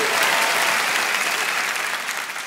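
Loud, dense applause from a comedy gala audience fills the whole stretch without a break, holding steady and easing only slightly toward the end.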